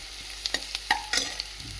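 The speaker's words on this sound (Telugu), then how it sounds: "ఇప్పుడు దోసకాయలు ఆనియన్స్ వేగిన తర్వాత దోసకాయలు వేసేయాలండి." Onions fry in a pan, giving a brief close burst of sizzling with a few sharp clicks and scrapes of stirring.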